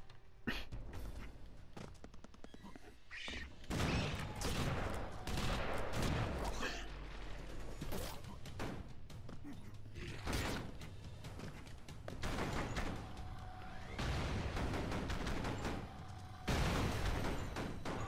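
Nonstop gunfire and explosions in the side-scrolling action game Broforce: rapid shots, booms and chaotic blasts crowd the whole stretch at a steady, busy level.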